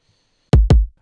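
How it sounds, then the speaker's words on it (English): Two punchy electronic kick drum hits from an FL Studio track land in quick succession after a moment of silence, each loud with a deep boomy body and short decay. "The kick is coming in as well,"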